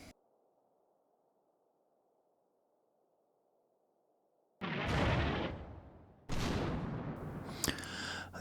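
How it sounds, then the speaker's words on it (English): German artillery shells burst on waste ground in Combat Mission: Stalingrad, two loud crashing impacts with rumbling debris that decays, each breaking after a long near-silent stretch. "German artillery falling in that waste ground in front of my company HQ"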